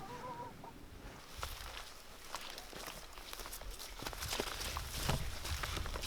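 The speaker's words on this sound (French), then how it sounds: "les poules se laissent attraper parce que là elle pense que c'est le coq qui est en train de les féconder" Chickens clucking softly and fussing as they are caught by hand on a survivalist's homestead garden, with rustling footsteps and handling noise. Fairly faint and close, with no talk.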